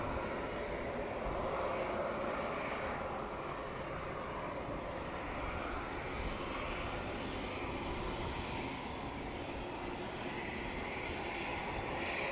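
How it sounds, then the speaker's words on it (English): An Alpha Jet on final approach to land during arrivals at the Royal International Air Tattoo 2023 gives a steady, faint, far-off jet drone that holds evenly without voices. "the Alpha Jet was perpetually on final approach when other aircraft were on the runway"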